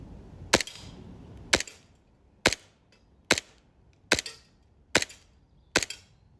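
Seven sharp airsoft pistol shots fired at a 10 meter range, evenly spaced about a second apart, each a crisp snapping crack with a brief tail, close and fairly loud against a quiet background.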